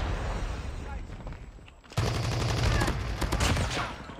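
Light machine gun in a first-person shooter firing a rapid sustained burst, a dense loud rattle of shots that cuts in suddenly after a quieter stretch and runs to the end.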